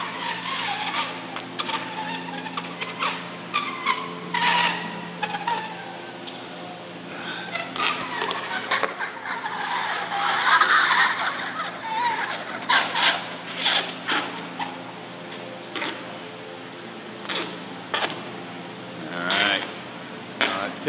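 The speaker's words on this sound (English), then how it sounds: "Got the rapid evaporation of the dry ice going on." Dry ice evaporating rapidly against a chilled metal shaft while breaking a seized nut loose, giving a steady hissing with irregular crackles and squeaks, close and moderately loud, with some background noise.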